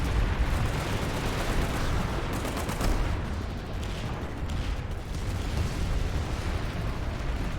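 Heavy explosive blast rumble from C4 in a first-person shooter match, a dense continuous roar with bursts and crackle throughout, loud and without talk.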